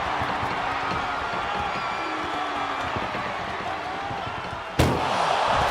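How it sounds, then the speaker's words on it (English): An ambulance door slams shut in the WWE 2K24 wrestling game: one loud, sharp bang near the end over a steady background of arena crowd noise. "Trying to at least slam one door shut."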